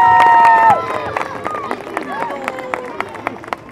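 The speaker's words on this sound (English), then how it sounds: "let's have one more round of applause for the great work on this tree" At an outdoor holiday tree lighting in Rochester, NH, a crowd claps and cheers; a long tone fades out at the start, then dense applause and scattered voices fill the rest.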